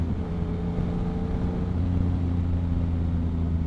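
A Yamaha MT-09 motorcycle cruises at freeway speed, a steady low engine drone with a slight pitch rise, blended with constant wind rush.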